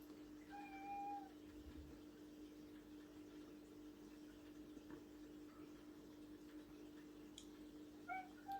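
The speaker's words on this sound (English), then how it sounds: "now I've got a cat that wants to come in and see me" A domestic cat meows a few times at a door, asking to come into the room, sounding close and fairly clear over a steady background hum with no talk.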